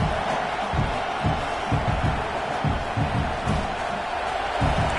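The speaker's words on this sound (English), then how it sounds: "this crowd coming to life here, trying to help the defense get a stop with the offense pinned back" A stadium crowd at a football game roars steadily, a dense, loud wash of cheering and noise filling the air throughout, with no clear voices standing out.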